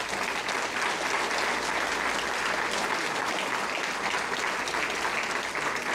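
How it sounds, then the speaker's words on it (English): Sustained audience applause fills the room at a Collingwood Chamber of Commerce event for mayor and deputy mayor candidates, steady and dense for the full six seconds with no break. "Let's give them a round of applause."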